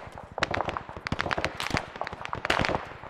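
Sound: gunfire in the video game Arma 3

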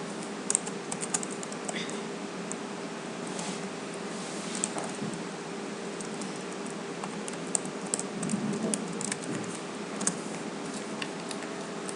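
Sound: typing on a computer keyboard

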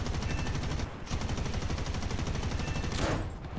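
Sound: 20mm nose turret firing on a Shackleton bomber, War Thunder video game

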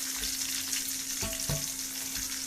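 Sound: rohu fish head frying crisply in oil

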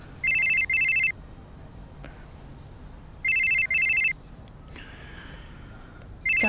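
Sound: telephone ringing in a TV drama

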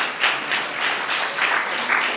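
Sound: one person clapping

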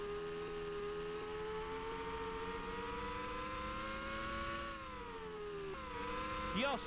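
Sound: race car engine revving in Formula One 2000 PS1 video game

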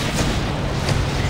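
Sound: explosions in video game Mass Effect 2

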